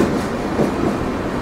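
A train running on the Konkan Railway through hilly forest country, giving a loud, steady rumble of rolling wheels and carriages that is close and continuous, with no talk.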